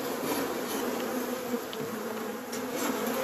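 Honeybees swarming around a beekeeper's bare hands, a dense, continuous close-up buzzing that stays loud and steady throughout with no talk.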